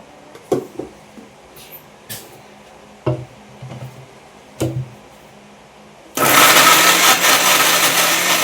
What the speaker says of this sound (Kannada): ಇವಾಗ ಮಿಕ್ಸಿಗೆ ಹಾಕ್ಕೊಳ್ಳೋಣ